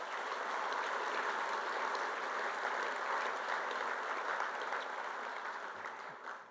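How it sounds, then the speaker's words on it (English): Audience at a business luncheon applauding sponsors, a dense continuous wash of clapping from a crowd, steady throughout and tapering slightly at the end, no voices over it. "if we could just give them a round of applause, please"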